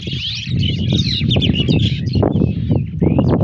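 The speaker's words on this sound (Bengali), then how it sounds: "পাখির কিচিরমিচির ডাক শুনতে পাচ্ছেন দেখেন কত পাখি প্রত্যেকটা গাছে সুন্দর কিচিরমিচির ডাকছে" A flock of birds twitters busily in trees, with close, loud, overlapping chirps running without pause over a low rumbling background.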